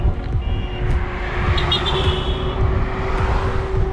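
Cars passing on a mountain road near Los Angeles, heard from an electric unicycle ride: a steady loud rumble of traffic and wind with a constant whine and a few brief higher beeps.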